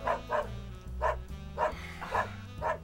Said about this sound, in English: Can you do something about that stupid dog?